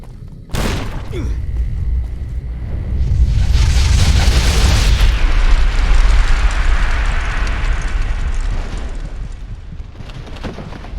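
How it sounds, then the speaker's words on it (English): A grenade blast in the video game Fallout: New Vegas: a sharp onset followed by a loud, sustained rumbling roar that slowly fades over several seconds, with no talking over it. "Grenade!"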